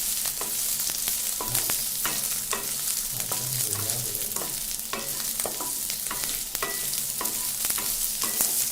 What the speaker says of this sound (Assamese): এতিয়া মানে হাই ফ্লেমত ভাজিম